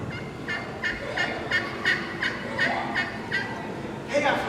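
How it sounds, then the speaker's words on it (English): A turkey yell: a run of about ten evenly spaced, rhythmic clucking yelps, moderately loud over a steady rushing background. "The basic sound the turkey makes is yell."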